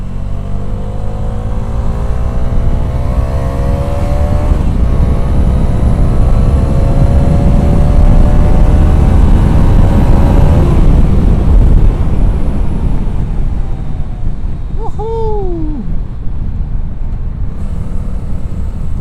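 A car on a road near Delhi and Gurugram drives fast in fourth gear at about 120 km/h, with a loud steady roar of engine and wind rising in pitch, then a brief whine near the end.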